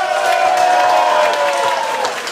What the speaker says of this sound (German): Danke für den Applaus